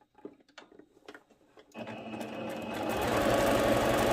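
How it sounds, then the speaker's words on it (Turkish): A sewing machine stitching through the elastic waistband of a skirt, a few light clicks and taps before the motor starts, then a steady fast mechanical whir that grows louder, close up. "Ayrıca şu ortadan, lastiğin ortasından bir dikiş daha gideceğim."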